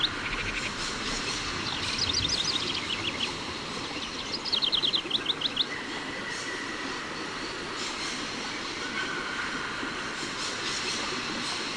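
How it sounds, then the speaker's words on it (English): Birds chirp in quick bright bursts inside a train station in Syberia, two clear clusters of twittering calls standing out over a steady low rumble of station ambience, fairly close and moderately loud. "All these birds in a station. It's amazing."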